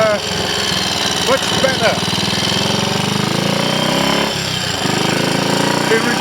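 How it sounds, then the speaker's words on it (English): A Triumph Scrambles Cub replica engine fitted with a borrowed trials carburettor runs close and loud with a rough, steady chugging throughout, while someone talks over it. "we've still got the splutter"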